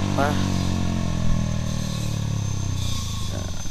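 A Honda CBR150R motorcycle with a loud aftermarket exhaust runs loud and raspy nearby, revving briefly and settling into a throaty idle.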